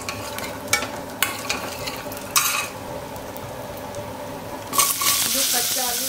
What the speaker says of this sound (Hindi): मूंगफली को अच्छी तरह से फ्राई कर लेती हूँ